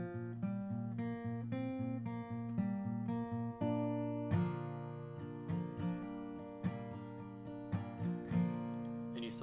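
Guitar strumming pattern from a song, with hammer-ons on the third string: rhythmic chord strums ring out clearly alone, quieter sparse strokes first, then a fuller, busier run of strums.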